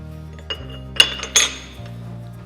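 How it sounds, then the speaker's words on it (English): A grinder ring is fitted into a Goodnature X-1 Mini Pro juicer, giving a few sharp metallic clinks and knocks close up over a low steady hum, with no talking. "Next, we can insert the grinder ring."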